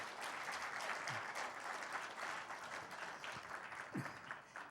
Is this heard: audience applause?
yes